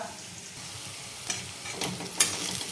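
Onion sautés in a pan, a soft steady sizzle with a few scraping stir strokes that grow slightly louder toward the end, close and fairly quiet.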